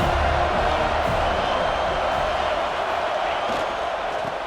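A stadium crowd roars continuously at a college football game in College Football 26, Pitt at Florida State, a dense, loud wash of cheering with no pauses.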